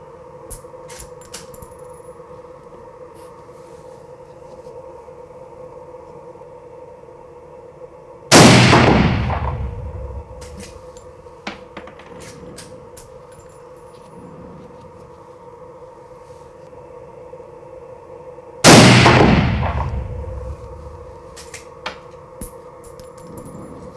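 Two loud gunshots from open-sight target shooting in a shooting match, each a sharp crack with a ringing decay, spaced about twelve seconds apart over a steady background hum and faint ticks.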